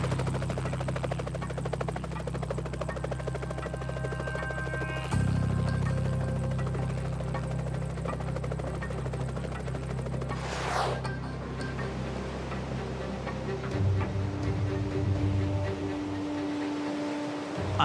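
A helicopter's rotor and engine drone steadily and loudly close by on the flight deck of a French Navy helicopter carrier at sea, with a deeper throb that shifts partway through. No one speaks.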